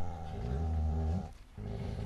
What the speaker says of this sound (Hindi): ड्यूक तू एक कुत्ते के भौंकने से रुक गया